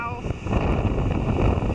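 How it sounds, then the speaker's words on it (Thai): Strong wind at Bethany Beach buffets the microphone with a dense, loud roar and rushing noise. A voice is briefly heard at the start. "ลมแรงมากนะคะ"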